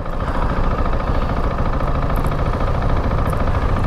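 A 2021 KTM 690 Enduro R single-cylinder motorcycle engine runs steadily on a freeway, a continuous loud rumble mixed with wind noise, with no talk.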